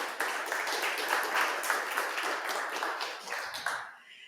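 An audience claps to welcome a performer at a live reading event, sustained mid-distance applause with distinct individual claps that thins and tapers off at the end.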